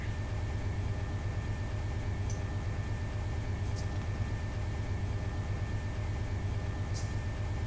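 A diesel locomotive in the train simulator Run 8 idles at notch 3, a steady low droning rumble with constant hiss and no variation, plus a few faint clicks.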